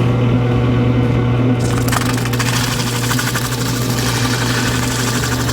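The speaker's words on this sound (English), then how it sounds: "So I take this little drum sander and I just clean out the inside." Small drum sander cleaning powder coat from the inside of a control arm bushing sleeve, a loud continuous whirring grind with a steady motor hum, sharpening into rougher scraping partway through.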